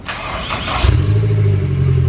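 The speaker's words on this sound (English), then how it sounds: "let's just see if the motor actually makes a sound after like 30 minutes playing with the starter" A close Honda S2000 engine with about 180,000 miles and no exhaust cranks briefly and then catches, settling into a steady, loud idle rumble.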